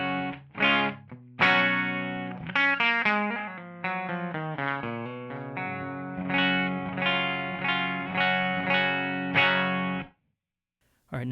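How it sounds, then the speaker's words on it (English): Clean electric guitar tone with the Maxon DS-830 Distortion Master pedal switched off, a run of picked single notes and chords played close and steady for about ten seconds, then a brief pause before a final note. "the pedal is off, so here's my clean tone"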